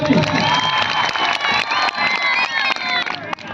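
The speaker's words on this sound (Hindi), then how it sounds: "समस्त दर्शकों को अनुरोध करी गोटे जोरदार ताली" A large crowd claps and cheers loudly and continuously, with whoops and shouts rising over sustained applause.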